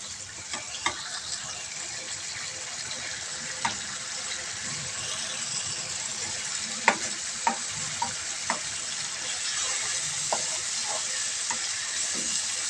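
Chicken karahi frying in a pan, a steady broad sizzle with occasional sharp clicks of a spoon against the metal, moderately close.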